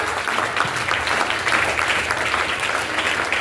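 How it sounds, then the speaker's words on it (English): A school audience at an elocution competition breaks into dense, sustained applause for a class teacher, a steady wash of many hands clapping at fairly close range with no voices over it. "Let's give a huge round of applause for our class teacher Hiren sir."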